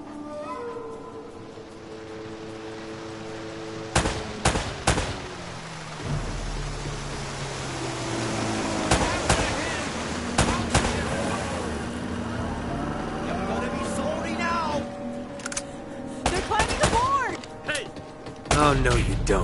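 Gunfire from the video game Uncharted: Drake's Fortune bursts in sharp repeated volleys between stretches of engine-like rumble, with voices talking at points in between the shots.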